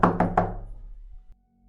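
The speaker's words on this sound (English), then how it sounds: "I heard a knock on the front door." Three quick, loud knocks on a front door, evenly spaced and close by, each ringing out briefly before the house falls quiet.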